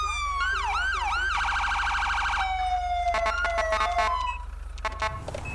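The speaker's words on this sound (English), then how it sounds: "I got the new siren in too." A police siren in the video game GTA 5 cycles through several patterns: a rising wail, rapid yelping, then sharp high-low bursts, loud over a steady low engine hum.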